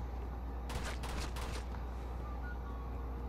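Gunfire in the video game Uncharted 2: Among Thieves, a quick cluster of sharp, loud shots bunched together over about a second, then fading into a steady low background hum.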